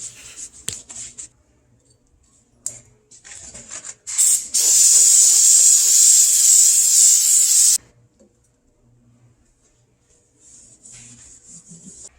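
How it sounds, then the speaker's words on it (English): Brake cleaner sprayed from an aerosol can onto a TH400 transmission: a loud, steady hiss lasting about three and a half seconds, with short spritzes and faint handling noises before and after. "I'm using some brake cleaner to clean this out."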